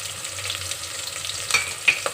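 Thin, long-sliced onions and slit green chillies fry in a pan for bagara rice, a continuous close sizzle with occasional sharper crackles and stirring scrapes, no talking.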